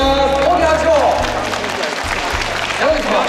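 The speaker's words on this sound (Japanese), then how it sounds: "大きな拍手を。" Applause and clapping from a crowd at a sports festival prize draw, a steady wash of hands filling the space while music plays underneath.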